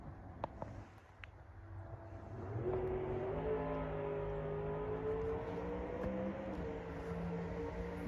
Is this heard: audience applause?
no